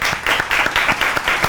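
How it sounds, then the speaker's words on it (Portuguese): A studio audience applauds a guest, professor José Luiz Dematté, on a talk show, steady clapping with a few louder individual claps standing out, fairly close and with no talk over it. "Uma salva de palmas, por favor."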